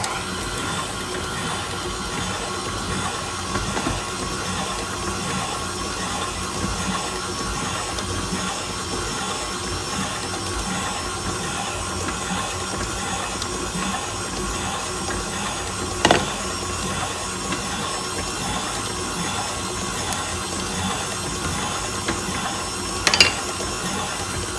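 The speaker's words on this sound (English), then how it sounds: "I'll add like half of the cream and then blend and add the other half after I start blending a little." A blender whirs steadily while mixing burnt Basque cheesecake batter with vanilla and heavy cream, a constant close motor drone with a faint rattling texture and a couple of sharp clicks near the end.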